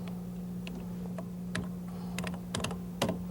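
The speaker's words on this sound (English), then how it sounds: "we can upload a file by simply typing in the name of that file on the keyboard of the machine" Quiet, scattered key clicks as someone types a filename on an early personal computer keyboard, irregular taps over a steady low hum.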